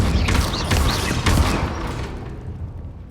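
Incendio fire spell cast during combat in Hogwarts Legacy, a loud whooshing blast with crackling bursts that fades out over about three seconds.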